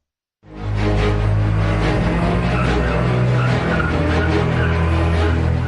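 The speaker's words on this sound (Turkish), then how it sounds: "Eski model arabalarla drift atan ve artistik patinaj yapanları polis affetmiyor." Old-model cars drifting and skidding on asphalt, tires screeching loudly and continuously with revving engines after an abrupt start, close and sustained.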